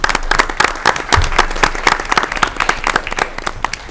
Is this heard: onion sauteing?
no